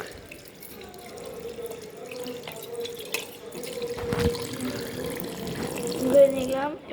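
A vessel is rinsed under a running tap, with steady splashing water and occasional clinks and knocks of the container in a home setting.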